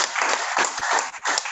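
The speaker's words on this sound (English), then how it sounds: "Let's clap for them." An audience at a community leaders' symposium claps together in a short, dense burst that dips briefly near the end before resuming.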